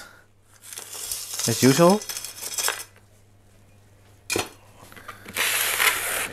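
Orchid potting medium, likely bark chips, is poured and pressed into a plant pot, giving bursts of dry crunching and crinkling rustles with a brief clink, mixed with nearby speech and quiet gaps between bursts.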